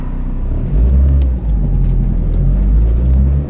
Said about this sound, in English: we're going to just kind of ease into the throttle and see where everything is going to land us